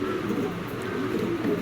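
Spanish pouter pigeons coo in low, continuous, overlapping murmurs close by, a steady soft throbbing without pause.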